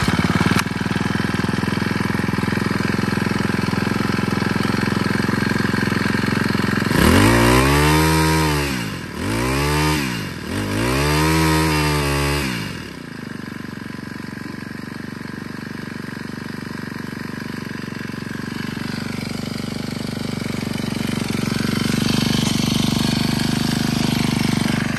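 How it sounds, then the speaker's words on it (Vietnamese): A used Honda GX25 grass trimmer engine runs close by. It idles with a buzzy rattle, revs hard in three rising bursts, then settles back to a steady idle. "bây giờ thì em sẽ test nổ luôn để cho các bác nghe qua tiếng động cơ của em nó sẽ như thế nào"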